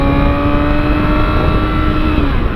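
A motorbike engine drones loudly and steadily close by, a continuous rumbling hum with a slight rising pitch and no break, and no talking over it.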